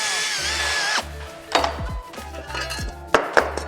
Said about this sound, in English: So I can now finish drilling out the rest of the holes